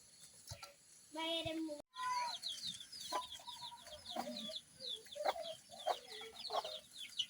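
Chickens cluck near a village chicken coop in a rural yard, with repeated short calls scattered throughout over a steady outdoor background and a brief pause partway through.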